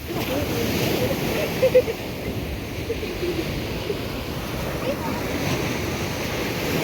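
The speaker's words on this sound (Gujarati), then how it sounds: "મજાનો દરિયા કિનારો છે મિત્રો બહુ મજા આવે એવું સ્થળ છે માધવપુર બીચ" Sea waves washing onto Madhavpur beach, a steady broad roar of surf mixed with wind buffeting the microphone, continuous and fairly loud.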